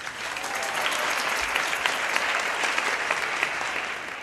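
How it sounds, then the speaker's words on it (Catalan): Audience at a small live band concert applauds a guitarist, a warm, steady wash of clapping that swells in and holds evenly for several seconds without any voices. "Un aplaudiment."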